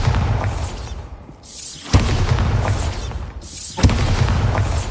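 The Bombarda spell in Hogwarts Legacy sets off loud, booming explosions with a whooshing rush, two heavy blasts standing out over a continuous roaring rumble.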